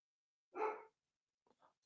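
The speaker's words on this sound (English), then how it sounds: "I can hear her barking through your mic" A dog gives one clear bark heard faintly over a podcast call microphone, followed by a couple of quieter, shorter yips.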